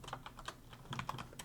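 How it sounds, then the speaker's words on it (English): Quick, irregular keystrokes tapped on a computer keyboard while a name is typed, close and fairly quiet, with short clustered bursts of clicks and no talking. "I'm going to type my name"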